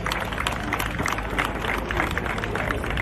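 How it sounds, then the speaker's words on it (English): A crowd claps and cheers for an outstanding parade, a dense, continuous wash of many hands throughout, fairly loud and steady with no clear gaps. "Please let's give them another round of applause."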